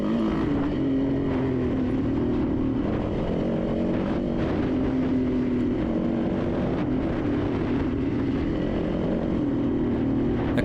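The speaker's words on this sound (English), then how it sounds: "Turn that throttle there, Georgie." Dirt bike engine held on the throttle during a hare and hound race, a steady droning roar with slight pitch rises, loud and close throughout.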